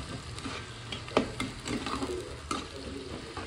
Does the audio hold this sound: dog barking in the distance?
no